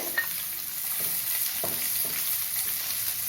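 Chopped onions sauté in hot oil for egg gravy, giving a steady close sizzle of frying with a few soft stirring scrapes and no voices.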